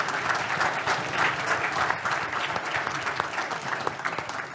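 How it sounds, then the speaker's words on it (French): Warm applause for the honoree at an awards evening, a sustained, fairly loud crowd clapping with a dense, even texture and scattered sharper claps, continuing without pause. "on peut l'applaudir"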